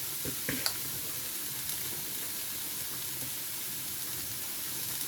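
A curry of Brussels sprouts frying in a pan after salt and chilli powder are stirred in. A steady, even sizzle and hiss runs throughout, with a few light clinks early on.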